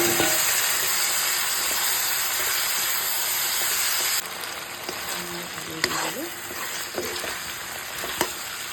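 Local chicken pieces frying in a pan with crushed ginger, garlic, turmeric and salt for a chicken curry, a loud steady sizzle that drops in level midway, followed by occasional scraping stirs and clatter, with no talk.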